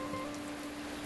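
Rain falls steadily outdoors during a simple home meal in rural Vietnam, a soft, even patter heard alone with faint tonal hums in the background.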